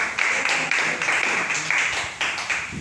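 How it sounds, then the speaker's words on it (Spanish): A church congregation claps together in a lively, uneven burst of applause at moderate volume, with faint voices mixed in. "¿Le puede dar un fuerte aplauso en esta hora?"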